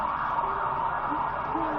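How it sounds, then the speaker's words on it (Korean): An emergency vehicle siren responding to a neighborhood fire wails steadily in the distance, a continuous moderate tone heard from indoors with no gaps across the short stretch. "사이렌이 울렸습니다"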